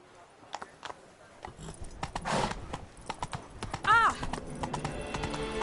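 The horse Roach gallops in The Witcher Wild Hunt, with a run of clip-clop hoofbeats that start after a quiet opening. A whinny rises near the middle, and voices talk over the steady, fairly close hoof rhythm.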